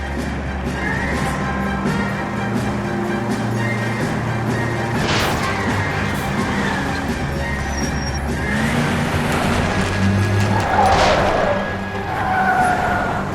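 Car chase in L.A. Noire, with engines droning through traffic and several sharp tire skids and screeches, plus a faint thud, loud and continuous throughout.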